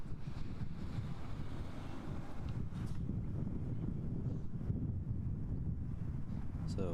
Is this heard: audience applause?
no